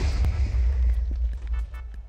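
A deep rumbling explosion effect, loud and sustained low boom that slowly fades, with scattered crackling debris pops over the tail.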